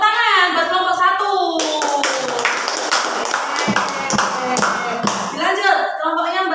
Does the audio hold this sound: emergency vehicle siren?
no